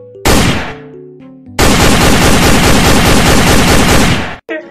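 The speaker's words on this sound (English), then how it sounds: "Stop shooting your gun at me" Gunfire bursts loudly: a short blast, a brief pause, then roughly three seconds of sustained rapid automatic fire that cuts off abruptly, with no talking over it.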